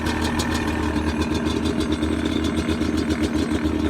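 A motorcycle engine idles on choke, a steady close rumble with a fast, even pulsing beat and no pauses.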